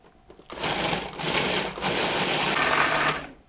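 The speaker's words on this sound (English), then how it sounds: "now I'm going to pulse and process this until it's a nice smooth puree" A food processor whirs in pulses while blending chicken livers into a smooth purée for brandied pâté, with a steady motor drone broken by brief dips between bursts and no talking.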